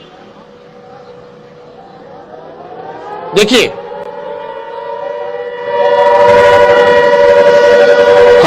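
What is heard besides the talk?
civil defense siren wailing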